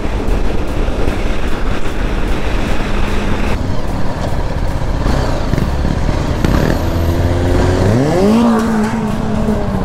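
A KTM Duke motorcycle's exhaust roars loud and close, engine droning and then revving up sharply in a rising pitch sweep near the end, with no talk.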